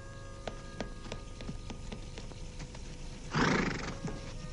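A horse whinnies loudly in a sudden outburst after a steady series of hooves clip-clopping nearby, heard in a western-film outdoor scene without speech.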